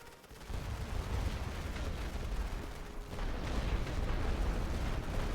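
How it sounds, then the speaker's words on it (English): Artillery barrage in the World War I strategy game The Great War: Western Front, a continuous low rumble of massed shellfire and distant detonations rolling on steadily without pause, heard alone with no talk. "Pilonnez cette position. Équipe, préparez un barrage total. Commencez le barrage."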